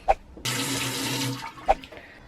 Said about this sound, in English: So let's go ahead and rinse my face.